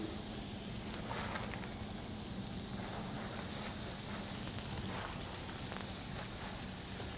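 Shallots and garlic sautéing in a pan give a steady, even hiss of sizzling oil, faint and unbroken throughout, with no voices.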